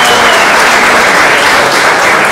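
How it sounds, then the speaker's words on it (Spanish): A dense burst of loud applause from a crowd at a youth council presentation, steady clapping filling the whole moment without pause. "les pido un aplauso fuerte"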